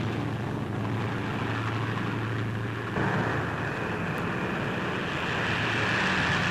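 A tow plane's engine drones steadily at a moderate distance during a wartime glider snatch pickup, the noise swelling slightly partway through, with no voices.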